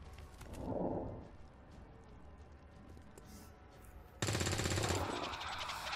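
Gunfire from a flank shot in the XCOM 2 video game, a loud dense burst entering abruptly near the end, after quieter game ambience with a brief soft swell earlier.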